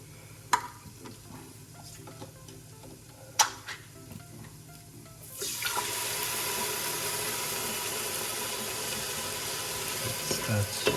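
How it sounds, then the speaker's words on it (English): Coconut cream pours into chicken curry (kuku paka) in a single pot, bringing a steady, continuous sizzle that rises halfway through and holds, after a few sharp clinks and stirring knocks at the start. "Now we're going to add our coconut cream."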